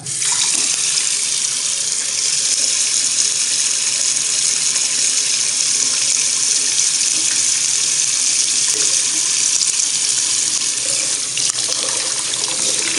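Lukewarm water from a hot-water tap gushes steadily into a sink, a loud, continuous hiss with no voices.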